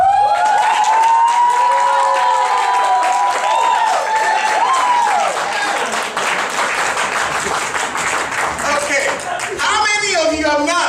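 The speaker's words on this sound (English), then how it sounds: "you clap as enthusiastically as you can" Conference audience clapping and cheering, with loud crowd noise and voices over it for most of the stretch and a lively, dense texture throughout.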